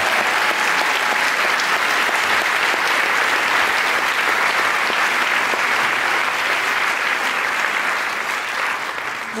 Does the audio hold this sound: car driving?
no